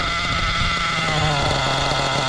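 A nitro carbureted engine idles steadily after carburetor tuning, running a little high, with a continuous buzzing drone that dips slightly partway through.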